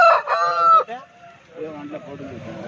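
A rooster crows loudly and close by in one long call at a Sunday poultry market in Pileru, followed by quieter clucking and voices in the background.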